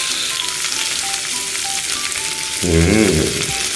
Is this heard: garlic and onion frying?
yes